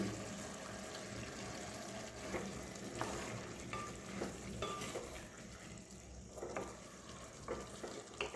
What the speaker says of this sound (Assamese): ইয়াত এতিয়া মই কাটি থোৱা বিলাহীখিনি দি দিম।